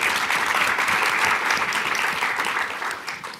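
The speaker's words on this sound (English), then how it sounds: "So a round of applause for them." A dense, steady wash of audience applause for the competition judges at the MIT $100K pitch event, loud and unbroken, easing slightly in the final moments.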